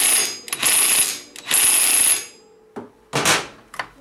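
Ratchet wrench tightening the clutch nut on a Kymco Dink Street 125 scooter during a drive-belt change: close, loud bursts of rapid metallic clicking, several separate strokes with short pauses between them.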